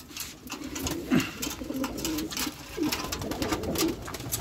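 Matbaacı tumbler pigeons coo softly close by, several rolling low calls at irregular moments over faint background noise, with no voices present.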